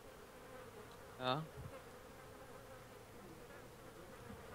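A fly buzzes briefly near the player in the survival video game DayZ, one short rising whine over quiet background hiss, with a single spoken word.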